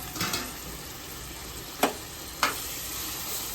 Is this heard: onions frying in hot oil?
yes